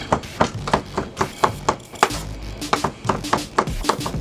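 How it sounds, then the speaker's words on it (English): A sharp knife chops chicken thighs and breasts into cubes on a board for Thai basil chicken, with rapid, evenly spaced close thuds about three per second and no talking. "So basically all I'm going to do is chop these chicken thighs and chicken breast up."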